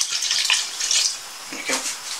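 Whiskey pours into a pot of bacon BBQ beans, giving a short, close hissy trickle and splashing that rises, eases and swells again over about two seconds.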